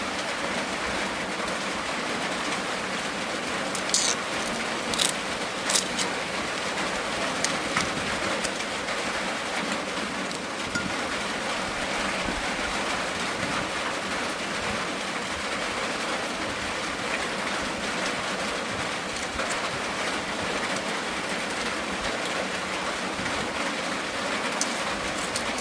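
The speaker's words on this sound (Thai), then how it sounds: "อันเสียงฝนหยาดใส่สังกะสีดังปอกแป๊กปอกแป๊กอยู่พี่น้อง" Steady rain drums on a corrugated metal roof, a dense continuous patter with a few sharper ticks, holding an even loudness throughout with no voices.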